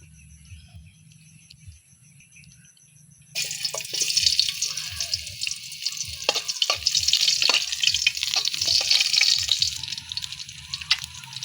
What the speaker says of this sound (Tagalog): Ngayon, gigisahin ko na siya.